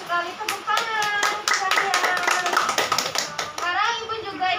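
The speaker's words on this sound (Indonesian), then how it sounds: "Tepuk tangan" A classroom of children claps in quick, rhythmic bursts for several seconds, close and loud. Young voices chant along with the clapping.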